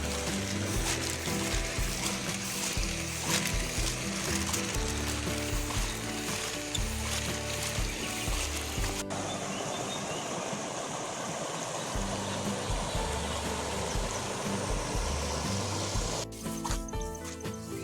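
Floodwater rushes steadily and loudly through farm fields for the whole stretch, a continuous broadband flow with no voices.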